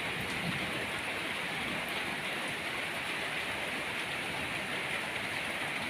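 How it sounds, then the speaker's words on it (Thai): Steady, dense rain pours down continuously, a close and even hiss with no voices. "ฝนตกครับวันนี้นะครับ ฝนตก"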